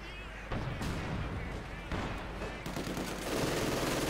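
Machine gun fire in Company of Heroes 2 from an MG and a Maxim, a dense and continuous rattle of bursts under layered battlefield noise, loud and sustained throughout.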